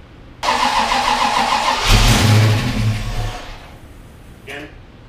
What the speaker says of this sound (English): we'll crank the car on and see what happens